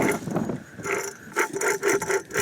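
A supercharger taken off a Honda S2000 is spun by hand, giving a raspy, grinding rotation with repeated scraping surges roughly every half second, close and moderately loud with no talking.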